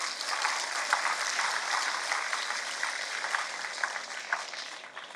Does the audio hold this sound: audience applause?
yes